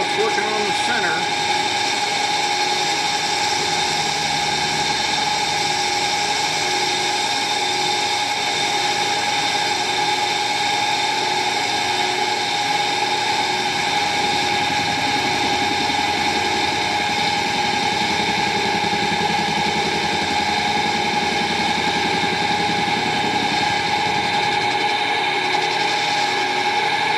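A lathe machines the center of a chuck backing plate, giving a steady, continuous mechanical whine with strong sustained tones and a constant motor hum that holds evenly throughout, with no talking.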